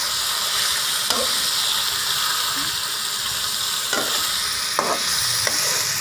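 Boneless chicken with masala and whole red chillies sizzles loudly and steadily in a pan, with a few sharp clicks of a stirring utensil scattered through the constant frying hiss.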